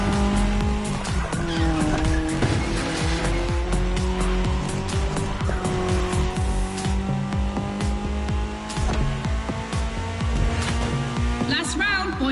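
A Ford Puma Hybrid Rally 1 rally car races in The Crew Motorfest video game, its engine droning and shifting pitch continuously, with tire squeals and skids throughout and a voice talking over it.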